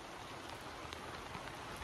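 Rain falling steadily, a soft, dense hiss of drops on surfaces, continuous and faint, with no voices.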